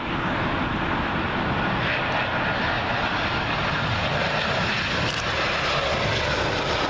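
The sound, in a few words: British Airways Airbus A320 from Manchester landing at Heathrow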